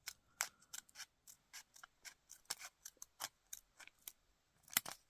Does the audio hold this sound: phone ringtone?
no